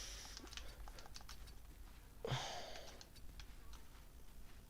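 Computer keyboard keys and a mouse clicking in quick, light taps throughout, close and quiet, during a Baldur's Gate 3 session, with one slightly louder clack partway through.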